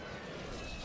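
A Call of Duty Warzone airstrike plane flying over, heard as a brief, steady low aircraft engine roar, faint and distant.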